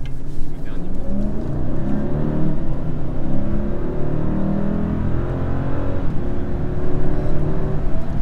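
A Mercedes GLS 600 Maybach luxury SUV runs steadily with a subdued, smooth engine note and a low rumble that rises slightly as it accelerates. Speech seems to sit faintly beneath the motor.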